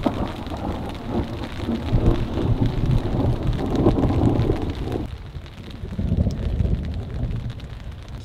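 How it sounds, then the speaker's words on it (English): Nighttime thunderstorm heard from inside a tent while camping at a bonsai nursery: steady rain patter with low rumbling thunder rolling through, fading as the storm moves away, with a brief spoken word. "I can hear the storm moving away in this direction."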